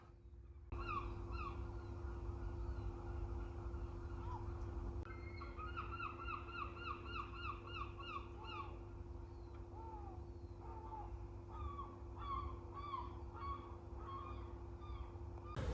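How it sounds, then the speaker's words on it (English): Seagulls call in repeated squawking bursts over a steady low engine rumble, fairly loud and partly distant, with no speech. "My word, them seagulls are loud."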